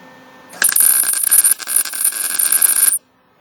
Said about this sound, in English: we're just going to do a spot weld